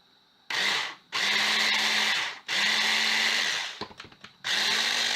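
Kitchen blender whirring loudly as it purees cooked carrots, running in three or four bursts separated by short pauses, with a steady high motor whine.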